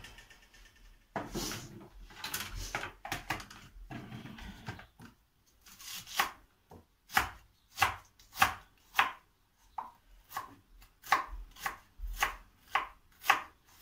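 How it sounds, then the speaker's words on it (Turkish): Knife chopping onion on a wooden board: a run of sharp, regular knocks, slow and scattered at first, then a steady brisk rhythm, close up. "Ondan sonra soğanı doğrayayım."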